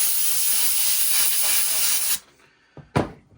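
A spray can hisses steadily and loudly into a water-damaged 1994 Pioneer stereo connector from a Miata for about two seconds, then cuts off, followed by a couple of brief handling knocks.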